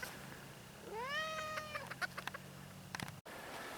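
A single short, high-pitched crow from a miniature rooster, fairly faint, followed by scattered clicks and taps.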